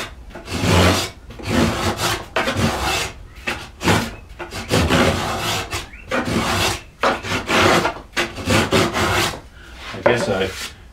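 A spokeshave hewing and beveling a wooden panel, loud repeated rasping strokes in a steady back-and-forth rhythm, close and uninterrupted by talk.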